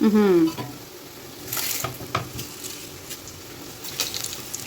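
Curry leaves fry in hot oil with a steady crackling sizzle for home cooking, close and moderately loud, with a brief voiced sound at the start and stirring scrapes through the rest.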